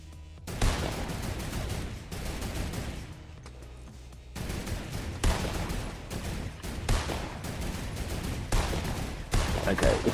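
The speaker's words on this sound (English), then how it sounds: "I'm shooting at my teammate." Repeated gunfire bursts in a Fortnite Battle Royale match, loud volleys of rapid shots separated by short gaps, running throughout with occasional voices underneath.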